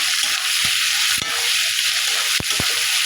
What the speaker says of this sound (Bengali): এটা ভালোভাবে পেঁয়াজের সাথে ভেজে নেব